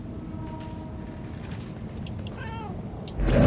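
A cat meows a few times in the video game Murdered: Soul Suspect, rising and falling cries over a steady low ambient hum, followed by a louder burst of noise at the end.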